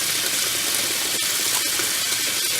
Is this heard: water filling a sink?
yes